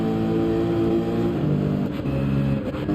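Race car engine in the Gran Turismo 7 racing game during a rainy online race, a loud sustained high engine drone with slight pitch shifts, steady and without talk.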